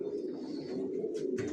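Young racer pigeons in a loft give a continuous low cooing drone, close and steady, with two brief rustling or fluttering bursts near the end.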